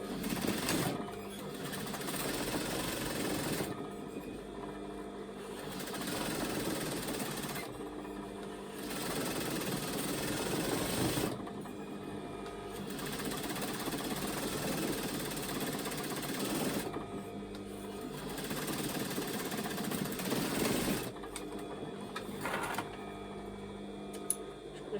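Stitching around trouser fabric from pyjama bottoms, a sewing machine runs in long whirring bursts of several seconds each, broken by brief stops, close and steady, with no speech.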